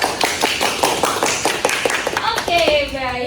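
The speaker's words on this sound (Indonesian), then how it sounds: "Tepuk tangan dong buat pesan" A small group claps in a classroom-style session, distinct separate claps that are sharp and uneven, with a voice starting to speak near the end.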